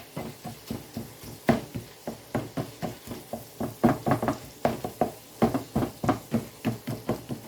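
Meat masher pounding cooked meat in a pan, a steady run of close, rhythmic thuds and squelchy knocks repeating roughly three times a second.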